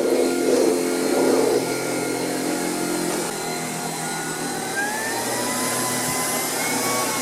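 A Tineco Pure One cordless stick vacuum cleaner runs steadily indoors with a continuous, fairly loud whirring motor hum and airflow hiss that shifts slightly in pitch, with no talking.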